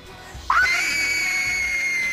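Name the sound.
woman's blood-curdling scream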